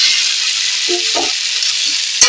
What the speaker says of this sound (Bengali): এবারে আমি দিয়ে দেব এই আলুগুলোতে নুন আর হলুদ দিয়ে ভালো করে কষানাছি